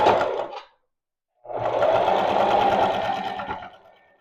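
A sewing machine stitches a hem with the walking foot lowered, running in a short burst, pausing about a second, then whirring steadily for roughly two more seconds at close range with no voices.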